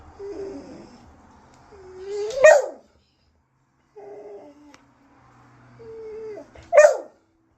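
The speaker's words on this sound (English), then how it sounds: "Tell him to stop barking." A dog growls low and then lets out a sharp bark, twice in a row, close by with a brief quiet gap between the two growl-and-bark bursts.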